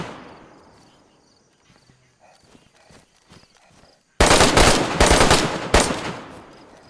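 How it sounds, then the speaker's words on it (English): Gunfire in a PVP video game at a base, with sparse quiet clicks and movement at first, then a sudden loud burst of rapid automatic shots in several tight volleys over the final seconds. "he's shooting at me"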